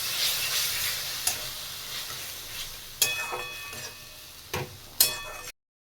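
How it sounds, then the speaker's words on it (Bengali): Greens and salt stirred in a pan over a continuous soft sizzle, with several sharp utensil clacks on the pan at irregular intervals before the sound cuts off. "শাকটা দেওয়া হলো আর নুন দেওয়া হলো, দিয়ে ভালো করে মিক্স করতে হবে"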